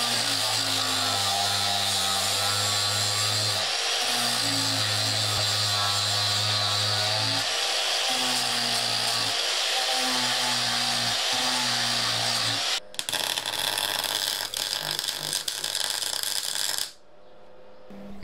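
Cracked chain case halves from a 54-year-old vintage tiller are welded in several short buzzing bursts with brief pauses between runs, followed by a steadier, harsher crackle near the end.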